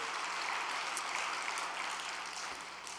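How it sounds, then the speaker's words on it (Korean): Applause from an audience at a volunteer group's gathering, an even, sustained wash of many hands clapping that fades slightly toward the end. "감사의 박수를 좀 부탁드리겠습니다."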